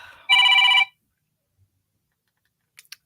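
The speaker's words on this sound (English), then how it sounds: "let me mute my phone, guys, so this doesn't keep happening." A mobile phone rings once with a loud, bright electronic trill lasting about half a second, followed by silence and a couple of faint clicks.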